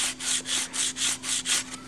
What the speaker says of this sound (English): Now this process of sanding